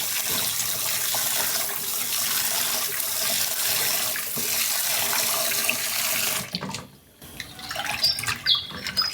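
Pork liver being rinsed under a running kitchen tap, a steady close splash of water filling a sink that cuts off sharply near the end, followed by a few lighter drips and dribbles.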